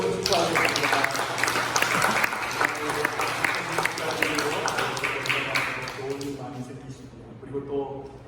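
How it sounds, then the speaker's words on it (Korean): A church congregation claps loudly and steadily for several seconds, then the applause thins out and fades as a voice begins speaking. "우리 박수로 우리 한번 축하하겠습니다."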